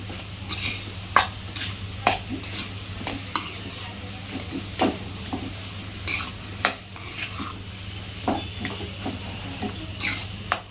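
Spices with turmeric and salt are stirred through potato filling for mini samosas in a pan, with a steady soft sizzle under repeated scraping and clinking strokes of the spoon against the pan, close and moderately loud.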